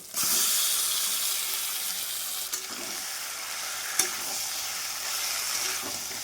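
Marinated mutton frying with browned onions in a pan, a steady loud sizzle with a few stirring clatters, close and without speech.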